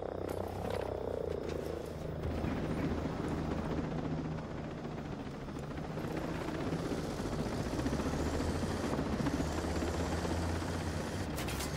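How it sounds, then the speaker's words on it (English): A helicopter arrives in the video game Ghost Recon Breakpoint, its dense rotor thrum building and rumbling steadily with a throaty, pulsing texture, heard alone with no voices. "Chopper's on the way."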